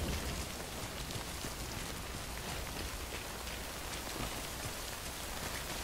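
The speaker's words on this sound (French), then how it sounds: "Il y a vraiment des beaux bruits de pas, des beaux bruits de pluie." Steady in-game rain from the video game Death Stranding, a dense, even hiss of drops pattering on surfaces, holding at a constant moderate level throughout with no voices.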